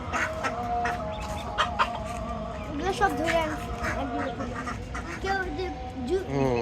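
Ducks quack and chickens cluck on a busy, noisy rooftop poultry farm, with people talking over the calls throughout.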